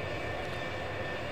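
A flight simulator plane with a glass cockpit gives off a steady, even aircraft engine drone, heard close up with no talking.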